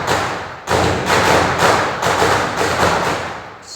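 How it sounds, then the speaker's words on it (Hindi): Diwali firecrackers burst in the background at the Rock Garden of Chandigarh, a series of loud, broad thudding booms in close succession that fill the space with rumbling noise. "दिवाली पे मैं ये चीज़ रिकॉर्ड कर रही हूँ, तो इसलिए पीछे से बम पटाखे फूट रहे हैं।"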